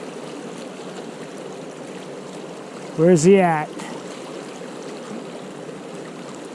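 Fast-flowing water of the North Fork of the Feather River rushes steadily in a continuous wash, broken midway by a brief spoken question from a nearby voice.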